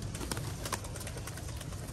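Pigeons cooing faintly in a short, quiet stretch, a few soft low calls against light background noise and no talk.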